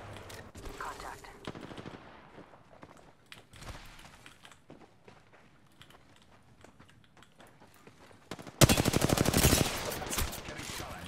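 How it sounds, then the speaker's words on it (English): Gunfire in the Apex Legends video game, with scattered distant shots early on, then a loud rapid burst of automatic fire near the end, while a player's voice talks quietly throughout. "Getting shot at now."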